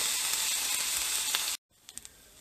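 Roast pork fried rice sizzles loudly in a hot pan with a steady, hissing fry that suddenly cuts off and then gives way to faint scattered crackles.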